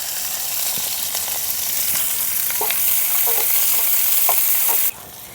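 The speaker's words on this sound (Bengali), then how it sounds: "পেঁয়াজ আর কাঁচা লঙ্কাকে সামান্য একটু ভাজা ভাজা করে নিয়েছি" Garlic, chopped onion and green chili fry in a pan with a steady, close sizzle, punctuated by light clicks and scrapes from stirring, then the sound drops off abruptly near the end; no one speaks.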